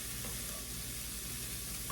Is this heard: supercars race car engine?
no